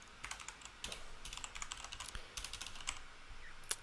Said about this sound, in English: So we type in the password